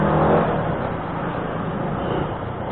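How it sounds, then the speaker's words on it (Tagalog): Steady road traffic rumble around a car stuck in midday congestion, a continuous broadband drone with engine and tyre noise that swells slightly at the start and stays loud throughout, no voices. "I hate traffic"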